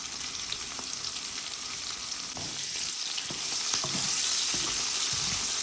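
Potatoes and chopped onion frying with cumin seeds in hot oil, a continuous dense sizzle with occasional low stirring thumps, close and steady throughout.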